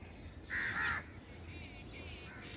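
A crow caws once, a loud harsh call lasting about half a second, over faint steady outdoor background noise near a flowing irrigation channel.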